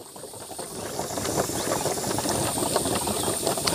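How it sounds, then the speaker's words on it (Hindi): A homemade gas stove burner, fed with gas made from water and petrol, burns with a steady rushing hiss that swells slightly and then holds even throughout. "ये हमारा चूल्हा जल रहा है"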